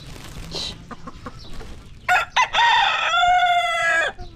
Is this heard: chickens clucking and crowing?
yes